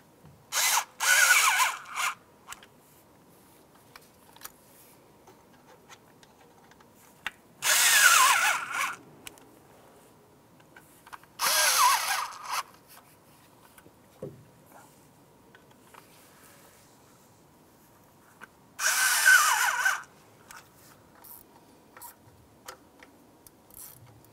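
A power tool drives screws on a 2006-2018 Jeep Wrangler JK oil filter housing in four short separate bursts of whirring, each about a second long, with quiet gaps and faint clicks between them.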